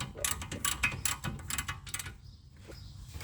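Stainless steel shock nuts on a Mercedes 107 front axle being torqued with a ratchet, a rapid run of close, crisp metallic clicks in bursts, then a quieter pause with a faint click.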